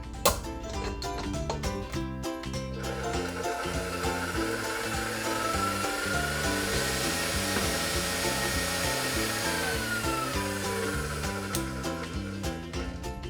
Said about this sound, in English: you're gonna need either a hand mixer or a stand mixer like we are using today, and we're gonna get this started with our whisk attachment